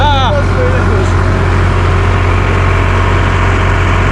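A loud, steady tractor engine drones and chugs throughout at close range, with a brief voice-like sound at the very start.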